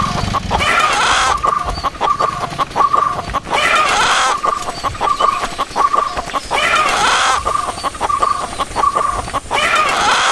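A rooster crows repeatedly in the background of a film trailer, loud rising calls at regular intervals over clucking fowl and ambient farmyard noise.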